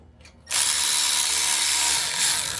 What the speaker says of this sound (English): Let me get the